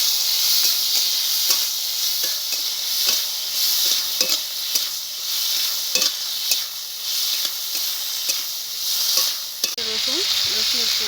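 Chopped tomatoes and four or five green chillies sizzle and fry steadily in a hot pan, with scattered stirring scrapes and clicks, close and continuous for the whole stretch.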